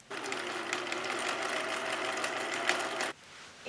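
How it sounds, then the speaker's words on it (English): A sewing machine zigzag stitches a neckband on a shirt made from a bedsheet, running in one continuous steady whirring burst for about three seconds before stopping abruptly, close and fairly quiet. "I want to use the sewing machine first and then I'll overlock the edges after I've sewn it together."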